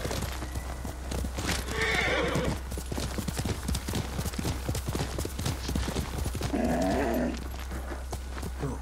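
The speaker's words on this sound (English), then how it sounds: "Her horse is here." Rapid clip-clopping horse hooves close by in the video game Ghost of Tsushima, punctuated by two distinct horse whinnies, one near the start and another toward the end.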